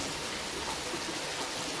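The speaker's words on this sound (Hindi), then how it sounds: "और पारू सिंह कैसा लग रहा है बारिश में?" Steady rain falling outdoors during field work, a constant dense hiss of drops with no distinct events.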